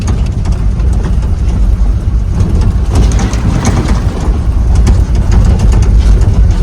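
A pickup truck loaded with paddy seedlings runs in a village field during rain, its engine a loud, steady low rumble close by, mixed with constant broadband noise and no voices.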